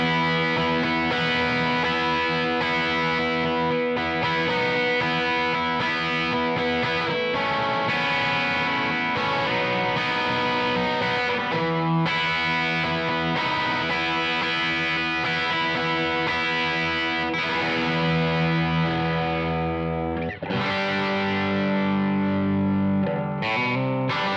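An electric guitar is played through an Analogman King of Tone pedal with the drive set to a distortion circuit, producing sustained, saturated chords and notes that ring continuously with brief pauses between phrases.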